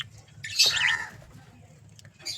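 Pet lovebirds in a cage give a brief burst of high chirping calls, close by and fairly loud, over a low background hum.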